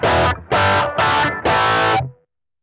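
Overdriven electric guitar through a TS9 emulation on a NUX Trident pedal into a Deluxe Reverb-style clean amp: four loud, gritty strummed chords in a steady rhythm, then a quick fade to silence.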